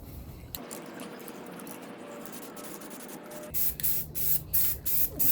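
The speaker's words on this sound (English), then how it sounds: "Now I'm about to spray a coat of black. And once again, I'm using the Rust-Oleum High Performance Enamel" Rust-Oleum High Performance Enamel flat black being sprayed onto custom fog light bezels: a steady aerosol hiss, then a run of short, louder spray bursts, close to the microphone.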